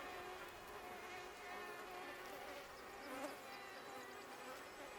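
Insects buzz steadily in a dense, continuous whine, like a swarm of mosquitoes close by, with no voices.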